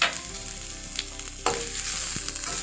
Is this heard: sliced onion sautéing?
yes